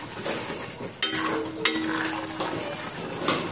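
Ground masala for a home-style fish curry frying in oil while a spoon stirs and scrapes the pan, with steady sizzling and a few sharp metallic clinks, close and alone.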